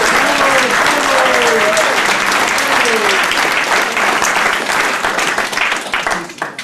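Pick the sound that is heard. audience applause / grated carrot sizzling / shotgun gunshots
audience applause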